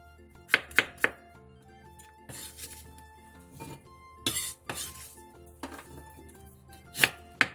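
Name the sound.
knife slicing apple on cutting board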